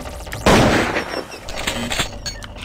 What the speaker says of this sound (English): So I'm going to go to the machine gun.